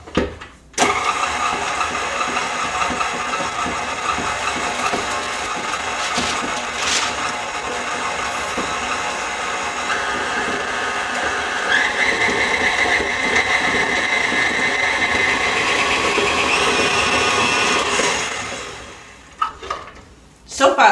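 An electric mixer whirs steadily as it blends all-purpose flour into Danish pastry dough. The motor holds a constant drone for most of the stretch and shifts pitch slightly, then winds down near the end.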